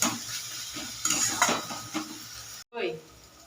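Tomato and lentils stirred in a cooking pot, clattering utensil scrapes and clinks against metal over a faint sizzle, then a brief silence and one last scrape.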